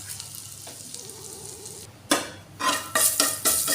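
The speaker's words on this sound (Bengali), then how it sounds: "ভাজা হয়ে গেছে এটা হিংটা" Asafoetida and cumin seeds fry in hot oil in a pan, starting as a quiet, even sizzle. Louder bursts of hissing and spoon scraping against the pan follow near the end.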